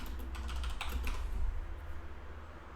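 Code being typed on a computer keyboard, a dense close clatter of keystrokes that thins out and fades near the end.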